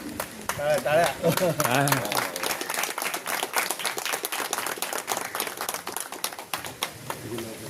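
Crowd applause at a poetry competition felicitation in Alibag fills the clip, dense and steady clapping from many hands, with a voice speaking over the start.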